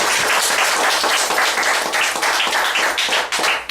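A graduation crowd at the 2013 Apex Education CSEC ceremony gives the valedictorian a loud, sustained round of applause, dense clapping from many hands with brief swells.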